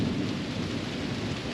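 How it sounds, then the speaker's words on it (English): Thunder from a morning storm rolls as a dense, sustained low roar, mixed with steady rain and with no voices. "The thunder hits right here."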